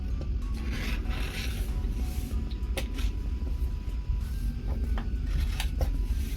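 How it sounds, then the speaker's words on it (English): Scissors snip through fabric while a custom makeup bag is being made, with a series of short, crisp cutting clicks and rustling cloth scattered over a steady low background hum. "So I cut this rinky-dink size and then I fix it afterwards."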